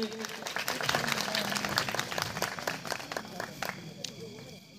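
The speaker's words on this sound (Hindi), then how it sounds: "जोरदार तालियां हमारी बहनों के लिए।" A Ramlila awards show crowd claps for sisters called to the stage, a brisk, fairly faint burst of applause with distinct individual claps, a voice speaking over it through a sound system.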